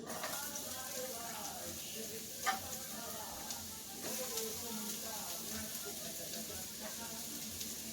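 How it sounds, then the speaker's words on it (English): Chopped onion sizzles in olive oil in a sauce pot, a steady broadband frying hiss with occasional stirring clicks and scrapes, close and fairly even throughout. "I got a little bit of olive oil in my sauce pot going. I'm going to add some chopped onion."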